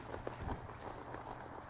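A horse walks on soft ground during cow training at home, its hooves landing in a quiet, uneven clip-clop of a few soft steps at a distance.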